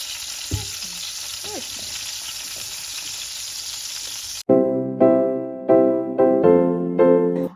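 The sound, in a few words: hot dog sausages frying in a pan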